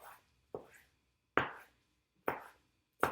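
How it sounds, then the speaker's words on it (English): A knife chops cilantro on a cutting board, four or five sharp, separate blade strikes spaced about half a second apart, close and clear with quiet gaps between. "Now it's time to cut your cilantro"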